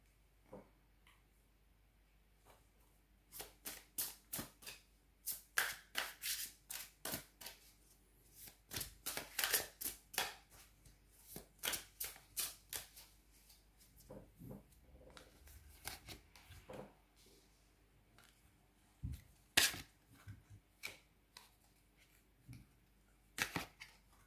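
Tarot-style playing cards are shuffled, flicked and drawn from a deck in a quiet room, giving bursts of sharp, close papery snaps and riffles with short pauses between them and no talking.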